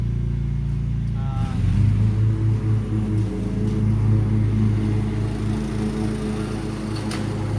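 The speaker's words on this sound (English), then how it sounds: "So we've got our neighbors out mowing his lawn." A neighbour's lawn mower runs steadily outdoors on an evening, a continuous droning engine hum with slight rises and dips in pitch, moderately close and loud, with no talking over it.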